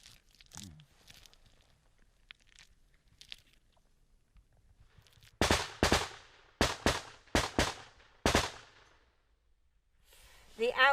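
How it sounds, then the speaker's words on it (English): Outgoing machine-gun fire from a Ukrainian trench position: after a quiet stretch with faint movement, several sharp, loud bursts crack out in quick succession, then it falls quiet again. "the outgoing machine gun fire from the Ukrainians is aimed at suppressing the Russians so they don't fire back"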